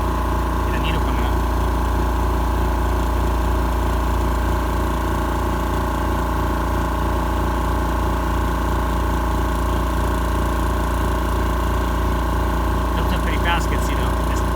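Oil-filled Air Venturi high pressure air compressor running with a steady, fairly quiet mechanical hum and low droning throb, constant throughout with no pauses.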